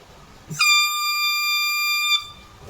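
A single sustained bagpipe chanter reed note buzzes steadily for about one and a half seconds, bright and harmonically rich, then cuts off.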